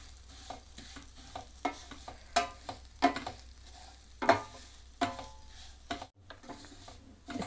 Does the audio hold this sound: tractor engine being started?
no